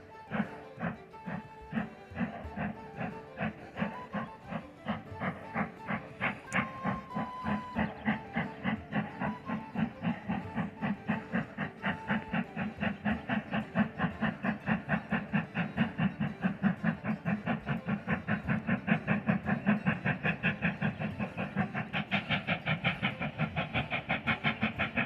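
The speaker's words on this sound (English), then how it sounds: "I didn't really think we'd get to see the train cross it" A train crosses a bridge in Glen Coe with a steady, rhythmic clatter of wheels over rail joints, a continuous heavy roll that grows slightly louder toward the end.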